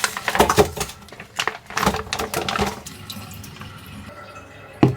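Running water splashes as meat and vegetables are washed in a kitchen, irregular bursts of pouring and sloshing close by, with quieter trickling between and a sharp splash near the end.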